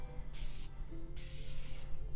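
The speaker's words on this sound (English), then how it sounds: "I have been recently using this Morphe watermelon, Sour Patch Kids watermelon spray" Morphe Sour Patch Kids watermelon face spray fires two short, close, hissing mists, one brief and one longer, with quiet pauses around them.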